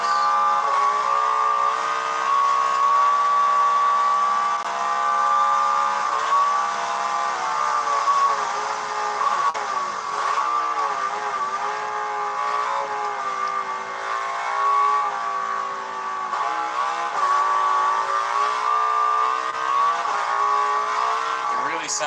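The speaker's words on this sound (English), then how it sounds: "They have real bike sounds. The transmission, everything, it's real." A Harley Davidson street motorcycle engine in a video game drones continuously with a buzzy harmonic tone, its pitch wavering slightly as the throttle shifts, moderately loud and sustained throughout.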